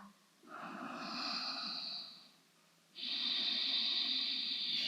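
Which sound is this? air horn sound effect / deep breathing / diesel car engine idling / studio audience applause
deep breathing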